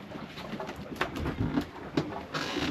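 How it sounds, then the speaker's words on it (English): A pigeon trapped inside a building coos and stirs nearby, with soft intermittent calls and fluttering over a steady indoor background. "I'm going to get that bird out of here. I don't want it cracking everywhere."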